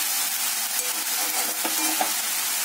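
Pumpkin greens frying in a pan are stirred, giving a steady soft sizzle with a few light scrapes and taps of the utensil, close and alone.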